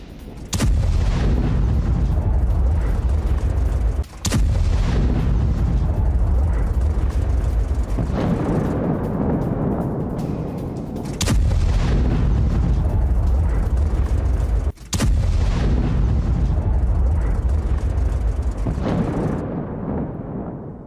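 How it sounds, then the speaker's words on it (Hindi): Heavy booms from a Russian missile strike on an energy site in Sumy, several loud, deep explosions with rumbling low-end between them, close and continuous. "सुमी में रूसी सेना के मिसाइल स्ट्राइक हुई है"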